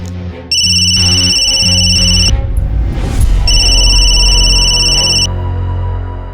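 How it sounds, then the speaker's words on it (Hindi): A loud electronic telephone ringtone rings close by in repeated bursts, with a steady tonal pattern and a sweeping whoosh in the middle. No one speaks. "होने वाले समधी जी का फोन है।"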